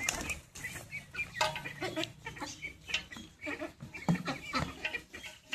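Half-grown ducks raised at home make scattered quacks and clucks with bursts of wing flapping, close by and irregular.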